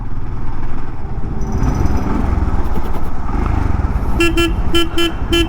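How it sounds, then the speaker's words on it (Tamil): Horn of a 2025 Royal Enfield Scram 440 motorcycle, several short loud honks in a rapid burst at the end, over a steady running engine and road rumble. "ஆரன் போதும், நல்லா ஒரு நல்ல சத்தம் கேட்குற மாதிரி தான் கொடுத்துக்கிறாங்க ஆரனு"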